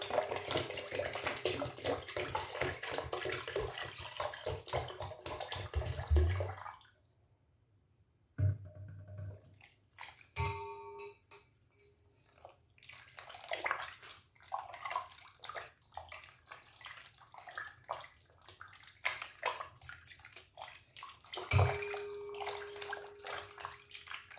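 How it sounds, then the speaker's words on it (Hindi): Water poured from a tap or jug into a bowl of homemade butter churned from milk cream, a steady rushing splash with a brief pause and a few small clinks and drips, close by. "फिर से पानी डालेंगे हम इसमें।"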